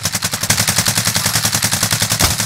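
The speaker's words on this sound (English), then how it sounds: "Oh, shooting here at the gas station?" Rapid automatic gunfire at a gas station in Call of Duty: Modern Warfare: a loud, steady stream of closely spaced shots, many rounds in a few seconds, with no pause in the burst.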